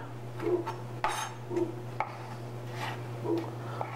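A knife chops scallops into finer pieces on a board, giving a few soft, spaced taps over a steady low hum, close and fairly quiet, with no talking.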